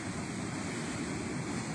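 Ocean waves on a beach, heard as a steady, soft, continuous wash of surf with some wind noise and no voices.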